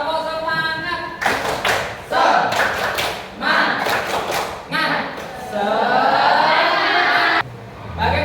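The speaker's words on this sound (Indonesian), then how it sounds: "kita tepuk semangat lagi. Tepuk semangat." Audience at an Indonesian resilience talk performs the rhythmic 'tepuk semangat' clap, with patterned bursts of group clapping and thumping mixed with chanting voices, then a long, steady stretch of crowd sound.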